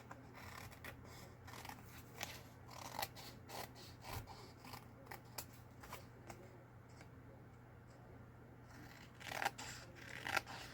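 Scissors snip small pieces off thin book-page paper, a quick series of crisp cuts and paper rustles, close and fairly quiet over a steady low hum.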